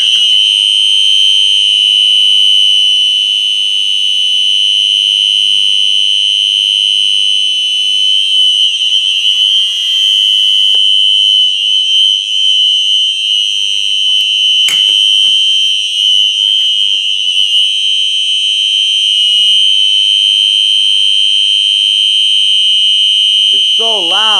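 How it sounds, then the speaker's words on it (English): A loud fire alarm system test with a UMMT horn, a continuous piercing electronic tone blaring close and unbroken, with faint voices underneath. "the UMMT is kind of loud"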